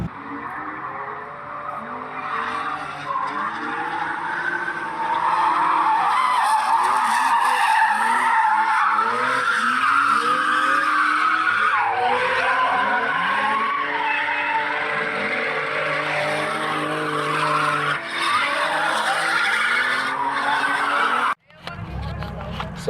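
Drift car at a drift race skidding through long stretches of screeching tire squeal and engine revving, loud and sustained, with a voice occasionally audible beneath, ending in a sudden cutoff.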